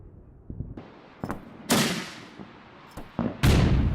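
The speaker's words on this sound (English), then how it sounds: "Now we'll fire at the target using a medium mortar that's on map." Medium mortar rounds fired in the Combat Mission war game: several sharp, booming reports at uneven intervals, some near and loud, others softer, each trailing off with a rumbling echo.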